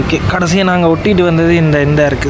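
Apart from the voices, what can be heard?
No distinct noise like a dog, phone or traffic.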